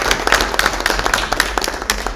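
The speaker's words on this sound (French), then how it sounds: "Je pense qu'on peut applaudir très fort" An audience applauds loudly at a French launch broadcast, with dense, steady clapping running for about two seconds close by.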